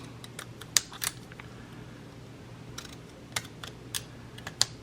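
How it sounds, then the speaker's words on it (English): Small scissors trim around the edges of a sticker, giving a string of short, sharp snips and clicks spaced irregularly, close and moderately loud over a low steady hum. "I'm just going to trim the edges with my little scissors."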